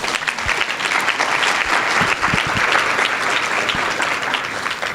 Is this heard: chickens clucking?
no